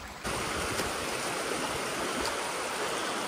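River water rushing steadily in northern Iran near Tonekabon, a broad continuous wash that starts abruptly and stays loud and close throughout with no voices.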